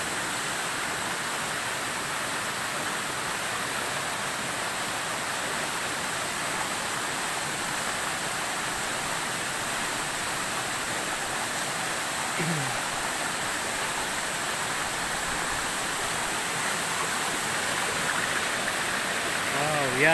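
Kabugaw Falls, swollen with floodwater after heavy rain, roars as a constant broadband rush of falling water that stays steady and loud throughout, with faint voices now and then beneath it.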